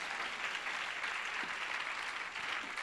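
A church congregation applauding and cheering in praise during a sermon, a steady dense wash of clapping and voices filling the room for the whole stretch without a break.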